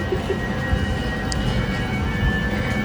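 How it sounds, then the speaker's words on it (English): A train at Venice Santa Lucia station produces a steady, low rumbling drone with faint sustained tones riding on top, moderately loud and unbroken, with no voices. "That was the train saying good night to us."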